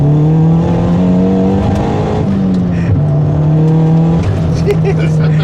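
A VW Fox GTI engine held high in the rev range, loud and close, with a steady droning tone and scattered exhaust pops near the top, with people talking over it.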